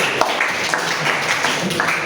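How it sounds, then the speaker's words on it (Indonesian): A class of students claps for a classmate's answer, a brisk, dense burst of many hands close by that keeps an even level throughout, with no voices over it. "tepuk tangan jawabannya Mas Wahyu"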